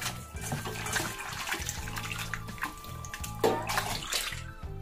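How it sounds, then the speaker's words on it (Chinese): Running water rinsing salted fish bones in a kitchen sink, a continuous splashing gush with clattering and sloshing throughout, close and fairly loud. "我们先把鱼骨加盐给它清洗一下"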